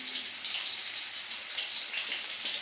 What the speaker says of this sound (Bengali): হাতটা ধুয়ে নিলাম